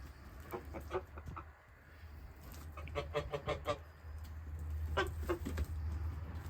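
Scattered honking and clucking calls from several long-necked geese, fairly faint, over a low outdoor background hum.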